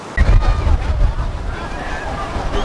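Strong wind roars and buffets the microphone at Neelam Point near Kohala Bridge close to Murree, Pakistan, a continuous loud rumble with gusty surges, while a voice can be heard talking underneath.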